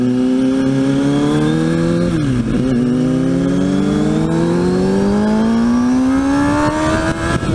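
A motorcycle engine revs hard and climbs steadily in pitch, loud and close, dipping briefly before rising again as the rear tire spins out during an attempted wheelie.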